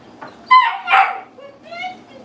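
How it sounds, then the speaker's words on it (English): A 3-week-old blue and tan German Shepherd puppy whimpers and yips close up, giving a few high, wavering cries and squeaks with short pauses between them. "this right here is a blue and tan German Shepherd"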